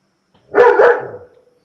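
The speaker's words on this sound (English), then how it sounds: "Whose dog's that?" A single dog lets out one short, fairly close bark that trails off into a brief whimpering tail, alone against silence.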